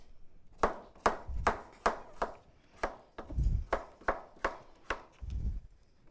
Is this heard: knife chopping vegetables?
yes